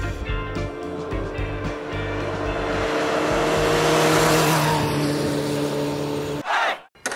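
A loud 900cc motorcycle engine revs and climbs steadily in pitch for several seconds, then drops off abruptly near the end.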